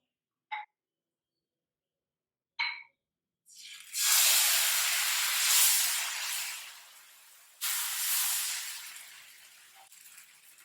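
Rava dosa batter hitting a hot griddle, first two short taps, then a loud broad sizzling hiss that swells, fades, and surges again as more batter is poured.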